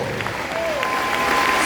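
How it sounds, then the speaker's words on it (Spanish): Church congregation applauding during a sermon, a dense steady wash of clapping with a faint sustained tone and voices mixed into the crowd noise. "Ahora fuerte ese aplauso al que escucha de lo más alto."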